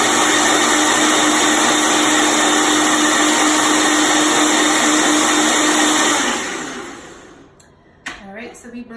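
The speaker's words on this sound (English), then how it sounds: "Blend it one more time." A blender whirs loudly and steadily through a kale, apple and banana green smoothie, then winds down and stops, followed by a few clunks of handling.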